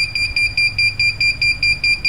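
A drone's buzzer alarm, used to locate the drone after a crash, sounds loud and close in a steady rhythm of about ten sharp, high beeps.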